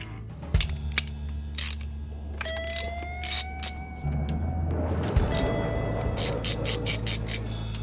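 A socket wrench ratchets on a spark plug of a Mercury XR4 150HP two-stroke outboard, with short bursts of fast clicking alternating with brief pauses and some faint mechanical whine, up close.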